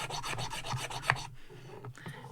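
Hand sanding of 3D printed parts for a saddle slotting jig, a steady back-and-forth rasping rub repeating in quick strokes, close and fairly quiet, pausing briefly before resuming.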